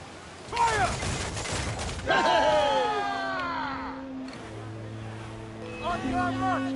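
Ship cannons fire in the naval combat of Assassin's Creed Freedom Cry. Loud booming volleys ring out, with sea and ship ambience between them and a voice shouting over the action.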